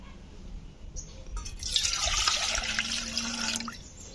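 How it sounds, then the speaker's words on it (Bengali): Water is poured into a large cooking vessel for a festive-style mango chutney, a close, loud gushing stream that starts after a quiet lead-in, holds for about two seconds and then stops, with no voices. "তো চলো এবারে এর মধ্যে আমি দিয়ে দেব জল।"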